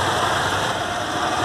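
Motorcycle engine on a driving-test track, a steady idling rumble with a mid-pitched drone, continuous and fairly close, with no talking.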